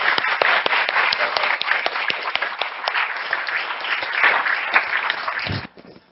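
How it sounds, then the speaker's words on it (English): An audience applauds steadily, a dense wash of clapping that holds for several seconds before cutting off abruptly. "I think he deserves a round of applause"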